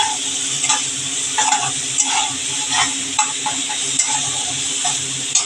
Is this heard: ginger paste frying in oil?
yes